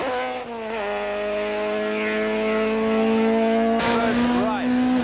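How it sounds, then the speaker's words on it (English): A Volkswagen Golf Synchro rally car driven at the limit on a rally stage holds a loud, sustained engine drone with a pitch shift partway through, under continuous speech. "Split-second reflexes are needed to keep the car under control as Jan pushes his Golf Synchro to the limits"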